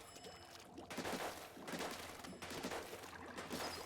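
Shots from the Dread Wringer in Splatoon 3 Salmon Run, heard as a few heavy bursts, each followed by a wet, splashy gush of ink, at moderate loudness with no talk.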